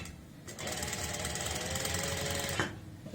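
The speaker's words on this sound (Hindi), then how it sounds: "ऐसे रखेंगे और सिलाई लगाते जाएंगे, तो हमारी सिलाई इसी सिलाई के ऊपर आती चली जाएगी।" Sewing machine stitching piping onto an apple cut kurti, a steady fast motor-driven needle chatter running continuously for about two seconds after starting, fairly close and even in level.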